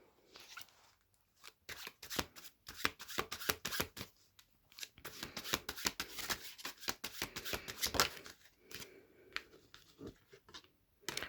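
Tarot cards are shuffled by hand in a quiet room, giving a long run of close, crisp riffling and flicking bursts with short pauses between them.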